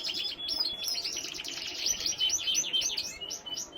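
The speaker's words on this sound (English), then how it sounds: "you've just been watching a little clip also of a lot of the birds that I'm moving on over on that side of the bird room" Lizard and Fife canaries in an indoor bird room chirp and trill continuously, a busy chorus of high bright tweets overlapping at close to moderate distance, with no voices.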